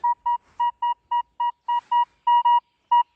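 A metal detector sounds a strong signal over buried metal beside a forest road: a series of about a dozen sharp, clean electronic beeps in short uneven pulses, loud and alone.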